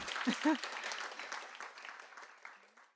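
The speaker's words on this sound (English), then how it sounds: "a round of applause for Jen Wang" An audience at a bookstore author reading applauds author Jen Wang, a moderate wash of clapping that fades gradually, with a couple of voices briefly calling out near the start.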